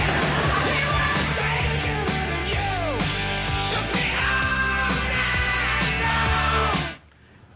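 A rock song plays loud and full, with driving guitars, drums and vocals, before cutting off abruptly near the end.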